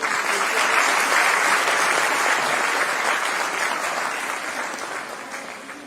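Conference audience applauding steadily and loudly, a dense wash of many hands clapping together that holds throughout and slowly tapers off toward the end, with no talking over it.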